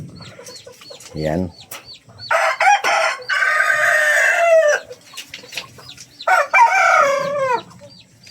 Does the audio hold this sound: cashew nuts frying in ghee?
no